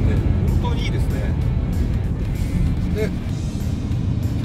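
A 3.3-litre six-cylinder diesel engine in a Mazda CX-60 rumbles steadily and deeply, with a voice talking over the continuous low drone.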